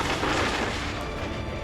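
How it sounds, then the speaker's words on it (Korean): A lithium-ion power bank overheating into thermal runaway erupts in a loud, sustained boom, a broad rumbling blast that fills the whole moment without a clear onset or fade. "굉음과 함께 이전과는 차원이 다른 폭발이 일어납니다"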